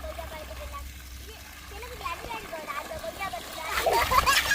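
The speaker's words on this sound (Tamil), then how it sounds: "இங்கே கொய்யா கண்டுக்கு தண்ணி அடித்து கொண்டிருக்கா ஹோஸ் பைப்பில்." A hose pipe waters a guava plant, its water splashing and spattering nearby and growing louder toward the end, while people, including a child, talk over it.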